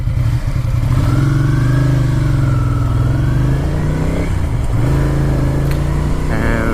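Ducati Monster motorcycle engine running close by, a loud throbbing twin-cylinder note with pitch rising and falling through revs, a brief dip near the middle, steady throughout with no talk.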